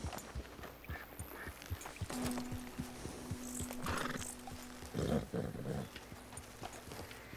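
A horse in the video game Red Dead Redemption 2 clops along with steady, soft hoofbeats, then gives a brief whinny and snort midway. The sound is fairly quiet over a low, constant game hum, with no talk.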